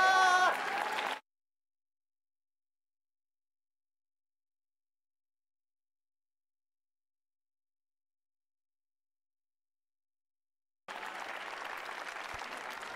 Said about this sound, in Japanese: みんなからは大きな拍手が送られました